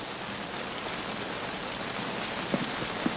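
Heavy rain falls steadily in a 1951 western, a dense constant hiss with a couple of brief louder knocks near the end and no talking.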